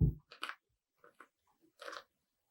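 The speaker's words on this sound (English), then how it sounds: "And don't mind me if I eat a nut" Someone crunches and chews a nut close by, giving a few short, dry bursts of biting and chewing separated by quiet pauses, with no talking.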